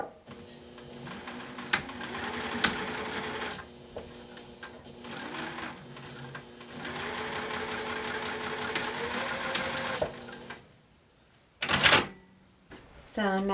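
A sewing machine stitches the binding of a fabric bag in several steady runs of rapid, close mechanical whirring, separated by short pauses. Clicks and handling noises follow near the end.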